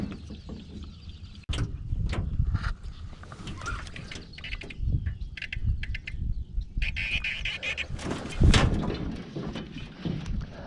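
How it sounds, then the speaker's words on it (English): Red-winged blackbirds call faintly by a lake in spring, brief chirps and trills scattered over soft outdoor noise, bumps and occasional knocks. "I even hear a few red-winged blackbirds."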